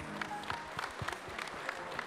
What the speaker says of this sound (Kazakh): Ду қол шапалақтарыңыз.